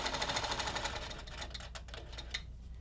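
A sewing machine stitches steadily along a quilting template, its rapid needle rhythm running close and loud for most of the stretch before easing into slower, broken stitches and brief pauses.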